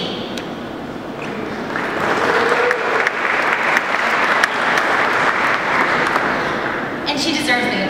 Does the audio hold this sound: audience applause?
yes